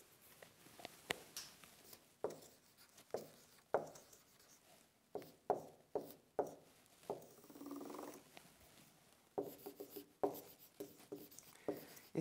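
Pencil strokes scratch across paper while a quick sketch is drawn for a percentage math exercise, coming as a run of short, uneven scribbling bursts and taps, close and fairly quiet, with no talking.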